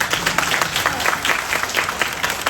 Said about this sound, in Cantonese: 俾啲掌聲啊麗君先